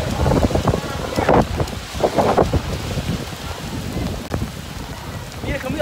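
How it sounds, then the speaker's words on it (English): Heavy rain pours outdoors at a SeaWorld Orlando visit, a loud steady hiss with gusty wind buffeting the microphone, and bursts of people talking and calling out over the downpour. "it's raining"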